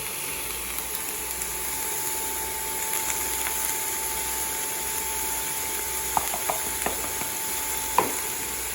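Broccoli and green onions sauteing in a pan make a steady sizzle beneath a constant hum, with a few clicks and scrapes of stirring near the end.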